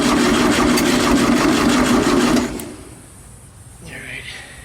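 A 1972 VW Beetle engine runs with a loud, steady, buzzing drone for a couple of seconds, then cuts out abruptly, leaving quiet background and a faint rising whine.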